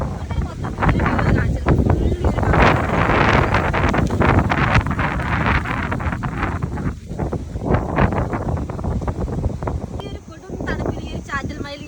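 Strong gusty wind and rain lash a misty, cloud-covered outdoor spot. Loud, dense buffeting roars against the microphone almost without a break, easing only briefly near the end.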